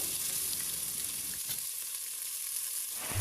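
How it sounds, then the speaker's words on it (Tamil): Chopped onions frying in a pan for mint pulao, a continuous soft hiss of oil with a faint stir or two, close but quiet. "நம்ம கட் பண்ணி வச்சுருக்கிற வெங்காயம் ஆட் பண்ணிக்கிறேன் வெங்காயம் நல்லா வதங்கணும்"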